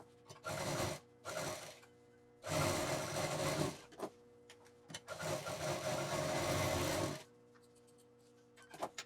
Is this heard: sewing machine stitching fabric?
yes